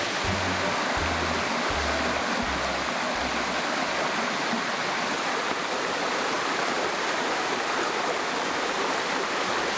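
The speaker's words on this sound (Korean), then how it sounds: "자, 여기 폭포 같은 곳 옆에 왔는데 짜잔 이렇게 물이 흐르고 있습니다" A mountain waterfall spilling into a flowing valley stream on Daedunsan gives a loud, steady rushing roar of water throughout, unbroken and close by.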